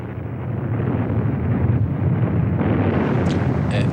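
Bombing explosions over Hanoi rumble in archival war footage, a loud continuous deep roar and blast wash sustained throughout, with no speech.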